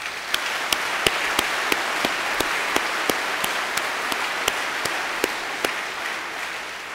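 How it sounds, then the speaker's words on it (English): Audience applause at a church event for young prize winners, steady clapping with a few sharp individual claps standing out evenly throughout. "Applause for them."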